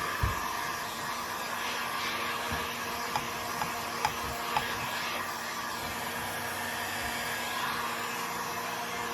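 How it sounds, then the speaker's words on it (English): A heat gun drying thin coats of paint on a wooden garden sign blows a steady whooshing hum throughout, with a few faint clicks and taps along the way and no voices. "this heat gun gets really hot and it will cause your paint to bubble up"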